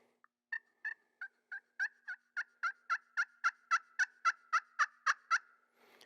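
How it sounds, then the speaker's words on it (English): Rhythmic series of about fifteen crisp, rasping yelps from a Primos Power Crystal glass slate turkey call, building gradually in loudness, close and alone with no talk. "I'm just going to make a few yelps, clucks, purrs, and let you guys hear what the Power Crystal sounds like"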